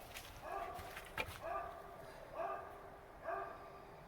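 A dog barks a few times in short, spaced bursts somewhere nearby, sounding moderately loud, with brief yips between, heard in a room during talk about an old trailer toilet.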